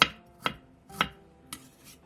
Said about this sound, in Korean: 생강 3토를 큼직하게 썰어주세요.